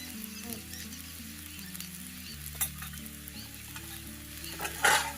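Reddened onion fries with chilli powder over a wood-fired chulha, a soft continuous sizzle close by with scattered crackles and scraping stirs, and one louder burst of spitting near the end.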